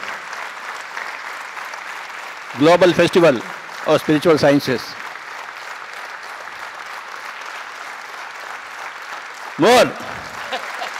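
Audience applause at the opening ceremony of the 11th Global Festival of Spiritual Sciences: broad, continuous clapping from a crowd runs throughout while someone speaks over it in short bursts.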